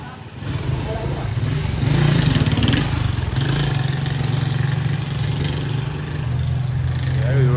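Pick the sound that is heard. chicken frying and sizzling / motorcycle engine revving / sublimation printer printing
motorcycle engine revving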